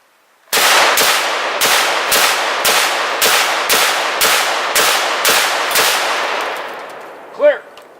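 SKS rifle firing a full magazine of 7.62x39 rounds, eleven loud sharp shots at an even, rapid pace, each with a ringing tail, then a brief voice after the string ends.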